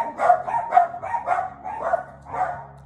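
A dog barks in a quick series of about six sharp, moderately close woofs with short gaps between them, with no other sounds around.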